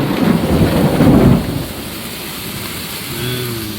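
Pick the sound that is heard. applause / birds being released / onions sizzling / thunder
thunder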